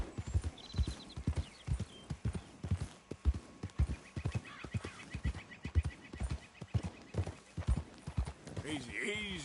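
A horse in Red Dead Redemption 2 gallops with strong, regular hoofbeats close by and loud, while someone talks over the rhythm and faint bird or frog calls come through in the background.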